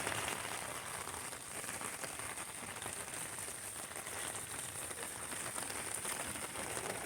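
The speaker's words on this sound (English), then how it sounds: "It's only been raining like an hour" Rain from tropical storm Hilary falling in front of a house in San Diego, a steady dense hiss of heavy rain with no break, fairly faint.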